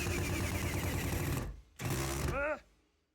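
A power drill drives screws through a shelf side into wall studs in two loud, close whirring bursts, the second ending in a falling whine as the motor stops.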